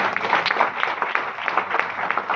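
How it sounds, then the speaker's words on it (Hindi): Steady applause from an audience at a business and health seminar, moderately loud and continuous with sharp individual claps standing out. "आपको मैं चाहूंगा एक जोरदार ताली मिलनी चाहिए उनके लिए।"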